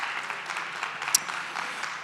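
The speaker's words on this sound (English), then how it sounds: "I want you to do a round of applause for all the startups competing on this stage" Audience applause for the startups competing on stage at a diplomatic startup challenge, a steady wash of clapping from the crowd lasting about two seconds, fairly even throughout with one sharp click near the middle.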